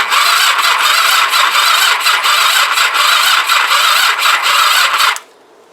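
A Kawasaki GPZ500s motorcycle with choke and throttle applied cranks with a loud, rapid, pulsing starter whir. The cranking runs for about five seconds, then cuts off abruptly into near silence.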